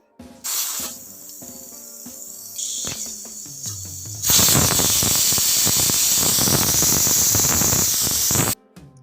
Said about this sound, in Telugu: కుక్కర్ మూత పెట్టేసి విజిల్ పెట్టేసి త్రీ విజిల్స్ వస్తే సరిపోతుంది